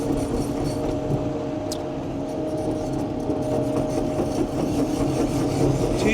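A 2018 Caterpillar 308E2 CR hydraulic excavator tracking at single speed: steady, continuous diesel engine drone with a constant mid-low hum and clanking undertone, fairly close and unbroken throughout, no talk.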